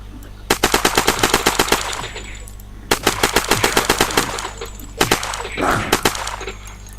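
An UZI fires in the video game Unturned: rapid, loud bursts of automatic fire, two long strings followed by a shorter one, with brief gaps between.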